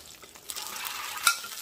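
Butter sizzles in a hot Korean BBQ hot pot, a close, brief crackling hiss with a sharp pop near the end, with no talking.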